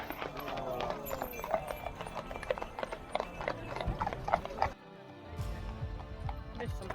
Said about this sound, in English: Watch this next horse as it skids to avoid the pedestrians.